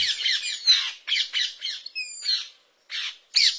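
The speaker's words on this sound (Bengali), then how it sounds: "এই গ্রামেই ২০০ বছরের প্রাচীন কড়াই গাছে ঘর বেঁধেছে টিয়ারা।" Parakeets nesting in a 200-year-old village rain tree give harsh, close squawks and chirps in quick bursts, with a few short pauses between calls.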